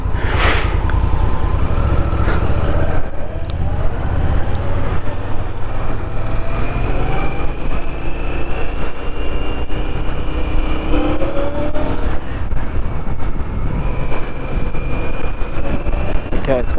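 A 2021 Indian Scout motorcycle engine idles with a steady, throaty exhaust rumble close by, pitch shifting slightly as it revs gently.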